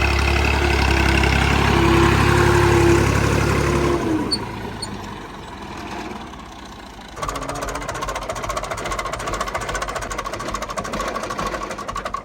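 A tractor engine running loud and close with a throbbing low idle, then the revs drop and it goes quieter before picking back up into a rapid, steady mechanical chatter.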